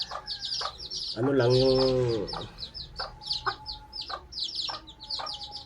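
A bantam hen clucks close by in quick, repeated bursts, with a brief stretch of someone speaking between them.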